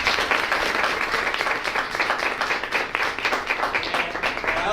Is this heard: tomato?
no